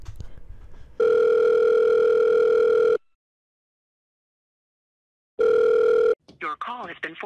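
A steady telephone tone drones for about two seconds after a dropped call, falls silent, and then sounds again briefly. A person talks at the start and again at the end.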